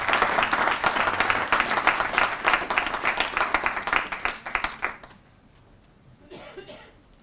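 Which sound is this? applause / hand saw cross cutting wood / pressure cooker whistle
applause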